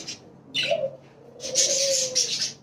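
Short bursts of high budgerigar chirps and twitters, close by, with brief pauses between the bursts.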